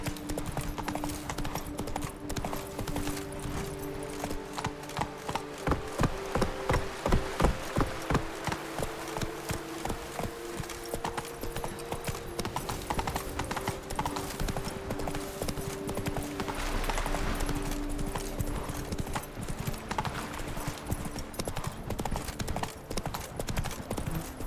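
Roach, a horse in the video game Witcher 3 on Death March difficulty, clip-clops steadily at a gallop, the rhythmic hoofbeats loud and continuous throughout, with music and faint ambient sounds layered underneath.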